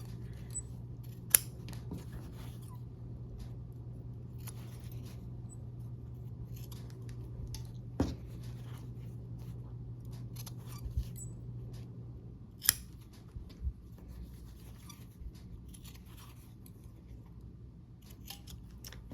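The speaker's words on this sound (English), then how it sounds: "I'm going to take my scissors and trim off the little dog ears" Several sharp scissor snips trimming fabric corners for a quilt block, spaced irregularly, over a steady low hum in a quiet room; no talking.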